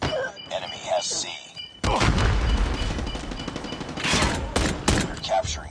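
Frag grenade thrown and exploding amid gunfire in a first-person shooter Domination match: a sudden loud blast opens a dense stretch of rapid shots and booms, with in-game voice callouts over it.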